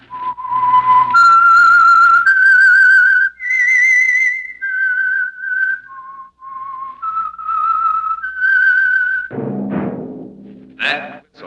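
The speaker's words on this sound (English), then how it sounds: "That whistle is your signal for the Signal Oil Program, The Whistler." A clear, loud whistled melody of sustained held notes stepping up and down, the signal theme of the old-time radio program The Whistler, followed by a short burst of other sound at the end.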